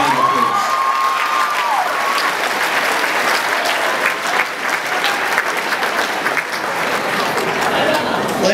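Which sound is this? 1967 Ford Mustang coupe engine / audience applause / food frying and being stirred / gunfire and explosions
audience applause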